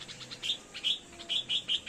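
Bulbul birds, adults calling above their fledglings in a neem tree on a farm, give bright repeated chirps in quick uneven bursts, fairly close and clear with no talking.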